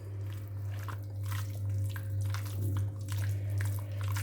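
Chicken worked by hand into a wet marinade of lemon juice, salt and oil makes soft squelching bursts at a steady pace, riding over a constant low hum.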